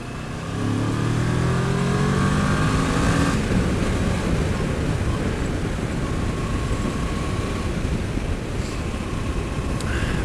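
Kawasaki ER6F sport motorcycle, restricted to 45 horsepower for an A2 licence, revs while riding on the road, a steady engine drone rising in pitch under heavy wind rush, close and loud throughout.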